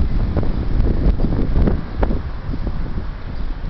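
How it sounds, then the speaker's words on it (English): Strong wind ahead of a thunderstorm roars and buffets the microphone continuously, a loud, gusty rumble with no voices. "it's very windy right now."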